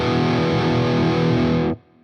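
Heavily distorted electric guitar plays a fast intro walk-down, loud and dense, with sustained chugging notes that cut off abruptly near the end.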